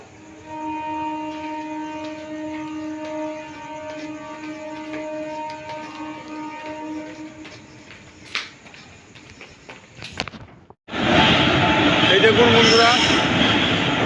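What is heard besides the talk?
train arriving at platform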